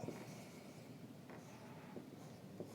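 A pen scratches across paper while working a moment of inertia problem: faint, quiet strokes with a few brief sharper marks over a steady low background.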